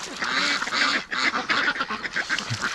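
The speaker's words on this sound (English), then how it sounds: "Look at that cute little duck." A pet duck being coaxed out of its water pen quacks and honks repeatedly, close and loud, in a continuous run of raspy calls.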